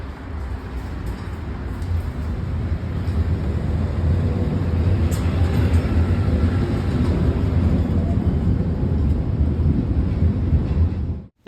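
An old interurban train on Rome's Centocelle line rumbles along at a steady roar, its low-frequency running noise loud and constant throughout, with no talk over it.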